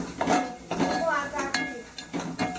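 Dishes, pots and pans clinking and clattering in a few quick bursts as someone handles them, with people talking over the noise.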